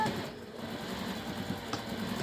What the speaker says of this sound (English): you're just going to sew that down